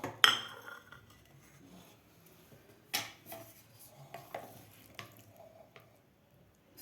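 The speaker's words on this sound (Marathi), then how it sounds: "सगळीकडून आपण याला हलवून घेऊया." A spoon scrapes and clinks against a metal pot of matar pulao with fresh peas, several separate sharp knocks and rattles spaced a second or so apart, close and clear with no talking.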